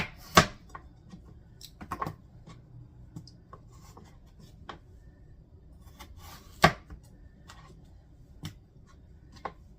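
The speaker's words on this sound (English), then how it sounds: "I'm going to get all of these potatoes cut up" A knife chops sweet potatoes on a cutting board, giving a few sharp, isolated thunks spaced seconds apart, close and clear over a quiet background.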